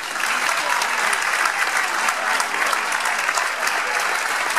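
Audience applause at a town festival event honoring a poster-contest winner, dense and steady clapping from a crowd sustained evenly throughout, loud and close.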